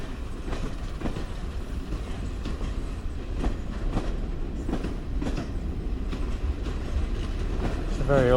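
A train rolls through the old, heritage-style Toddington railway station with a steady rumble and rhythmic wheel clatter over the rails. It sounds moderately distant and stays unbroken for several seconds, with a faint squeal near the end.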